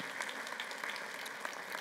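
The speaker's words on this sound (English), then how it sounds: "How about a hand for our kids today?" A church congregation applauds for the children, a dense, even wash of clapping from a large crowd heard at a distance, steady throughout with no voices over it.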